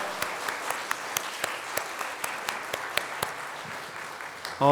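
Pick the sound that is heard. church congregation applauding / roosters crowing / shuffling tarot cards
church congregation applauding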